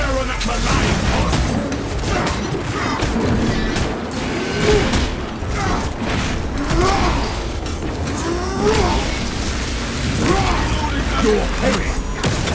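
Dense battle din from Warhammer 40k Space Marine 2, with repeated booming gunfire bursts and clanking mechanical noise layered over each other, while voices shout commands above the chaos.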